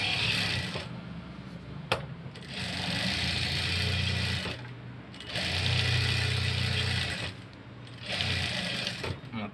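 A sewing machine stitches the lining of a garment in several sustained runs, its close, steady whir pausing briefly between passes.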